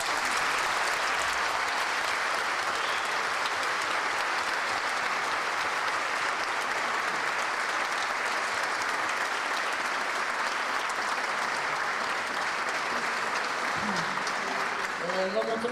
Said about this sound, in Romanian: Să aplaudăm pe toți!